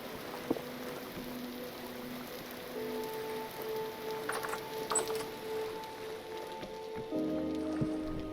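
Rain in the video game Vintage Story patters steadily on a surface, fairly quiet, with a few faint tones drifting through in the background.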